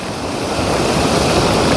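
Muddy floodwater races past in a steady, loud, unbroken roar that spreads across the whole band, with no gaps and no voices.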